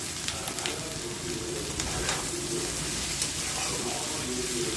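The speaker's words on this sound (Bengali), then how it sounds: "তো দেখো, আমি সবজিটা ভালো করে ভেজে নিচ্ছি।" Mixed vegetables fry in a pan with salt, giving a steady, close hissing sizzle with occasional stirring scrapes, and faint birdsong sits in the background.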